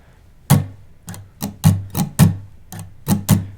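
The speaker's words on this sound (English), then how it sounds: "we could choose to put a really soft strum or a ghost strum" Muted guitar strums in a loose rhythm, sharp percussive chucks on the low strings with soft, gentle ghost strokes between them, close and alone.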